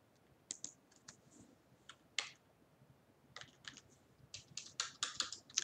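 Typing on a computer keyboard while filling in a spreadsheet: irregular bursts of quick, faint key clicks, near, with brief pauses between bursts and no talking.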